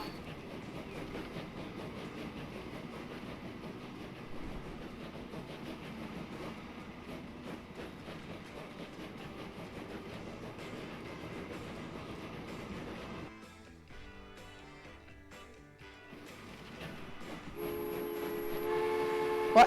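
A train in the rail-building game Transportation Fever rumbles and clatters steadily along the track, briefly dips in volume, then sounds a loud, sustained tonal horn near the end.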